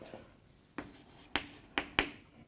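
Chalk or marker strokes on a board, a handful of sharp taps and scratches spaced irregularly, close and fairly quiet, with no talking over them.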